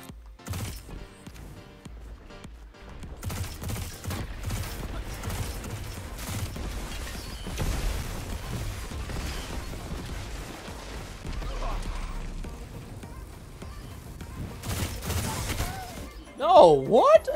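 Gunfire and a grenade blast in the Destiny 2 beta: scattered sharp shots and bursts through a busy firefight, a louder burst near the end, a voice talking over it.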